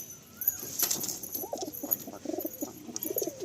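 A Malbai pigeon pair in a loft in Kolkata gives repeated soft, throaty coos up close, over faint rustling and a brief flutter.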